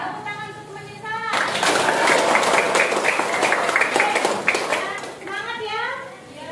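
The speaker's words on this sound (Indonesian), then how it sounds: "Tepuk tangan untuk temannya" Classroom applause from a group of high school students during a history lesson, a broad sustained clatter of clapping that rises abruptly, holds steady for several seconds and then fades, with a teacher talking before and after.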